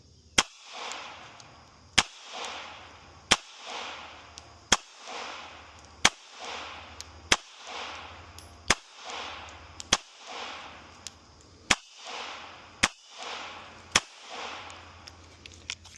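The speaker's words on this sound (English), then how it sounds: "I want to put 2 magazines of that Federal Hydra-Shok Deep through here, see how they perform." Federal Hydra-Shok Deep .380 ACP rounds fired from a Smith & Wesson Bodyguard 2.0 Performance Center carry comp pistol, a dozen sharp loud shots at a steady pace of roughly one every second and a half, each followed by a short outdoor echo.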